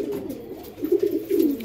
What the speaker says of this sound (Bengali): এখন পায়রাগুলো দেখুন